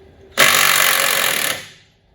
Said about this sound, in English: Man, I love these Bauer impacts.